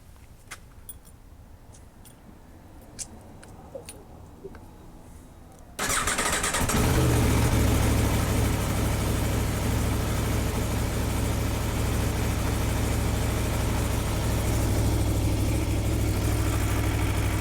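A stock 2021 Aprilia Tuono motorcycle engine starts abruptly after a few quiet seconds of faint ticks, then settles into a loud, steady, close idle that holds to the end.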